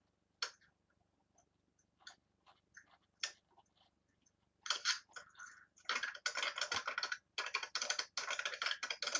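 Someone types on a computer keyboard nearby: a few scattered keystrokes at first, then dense, rapid bursts of clicking toward the end, fairly quiet and with no speech.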